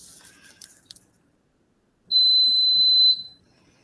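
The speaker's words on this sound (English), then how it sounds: "It's an alarm. You can ignore that." A workplace alarm sounds a single loud, steady, high-pitched electronic tone lasting about a second, after a stretch of quiet faint rustling.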